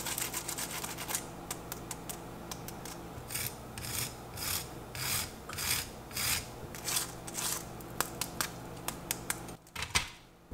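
Homemade two-ingredient hash browns, crispy, being handled or broken up up close: a series of loud, raspy crunching scrapes in a rough rhythm, followed by a few sharper clicks near the end, with no voices.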